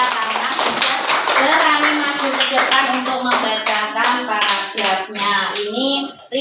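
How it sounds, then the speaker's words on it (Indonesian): In a classroom, students clap for a pupil who has just read a paragraph aloud, a sustained patter of many hands. A teacher's voice talks continuously over the clapping. "Tepuk tangan sekali lagi untuk Mbak Aulia."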